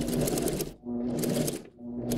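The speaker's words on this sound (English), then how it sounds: "Make sure that you lock in your stitches, of course, at the end, same at the beginning." Sewing machine stitching a blouse seam, a steady close mechanical whir in two runs separated by short pauses, no talk.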